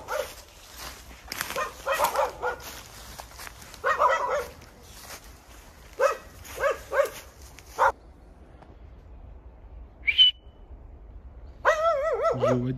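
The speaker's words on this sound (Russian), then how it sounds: "Стая собак обнаружена." Stray dogs in a pack bark outdoors in irregular bursts, with clusters of sharp barks and yips, some close and loud, some further off, then a pause and a final whining bark.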